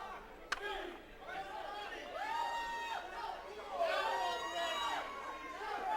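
Crowd at an Enigma Pro Wrestling show cheering and shouting for the wrestler Vandal, a steady mass of voices with rising whoops and yells and a sharp clap near the start, continuous throughout.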